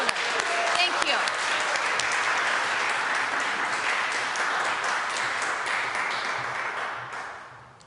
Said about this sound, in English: let's give another round of applause for our generous donors